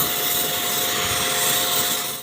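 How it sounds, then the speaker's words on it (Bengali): A jet pump spraying water to force-wash an air conditioner coil, a loud steady roaring hiss that runs unbroken from start to finish. "জেট পাম্প দিয়ে মারলেই ভালো।"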